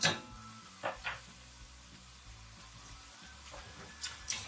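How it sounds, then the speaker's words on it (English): Chopped onions stir-frying in a pan on a large hob ring at medium heat, a steady close sizzle with a few louder clatters and stirring bursts near the start and end, no talking. "we're going to stir fry this just for 5 minutes, maybe the most"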